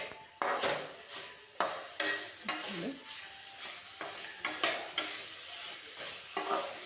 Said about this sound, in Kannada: ಇದನ್ನು ಸಹ ಚೆನ್ನಾಗಿ ಫ್ರೈ ಮಾಡ್ಕೊಳ್ಳೋಣ.